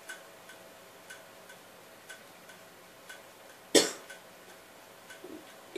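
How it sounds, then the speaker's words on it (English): A single sharp cough bursts out close by, standing alone against a quiet background of soft, steady ticking. "I'm dying from this cough."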